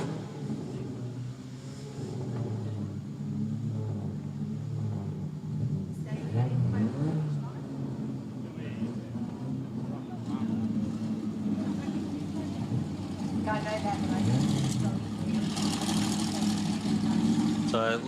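A limited sprint car engine at a speedway fires up and settles into a loud, rough idle, steady and near under crowd and announcer chatter, with a brief rise in revs toward the end.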